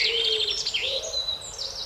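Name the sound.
birds calling in the woods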